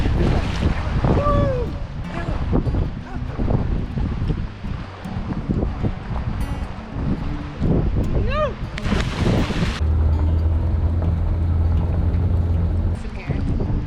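Steady wind buffets the microphone by the shore, with rustling gusts throughout and a voice talking now and then over the blustery noise.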